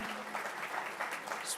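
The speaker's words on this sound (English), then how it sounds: "Let us give big applause to Raja Papu." Conference hall audience applauding a team member, a short burst of steady clapping at moderate distance.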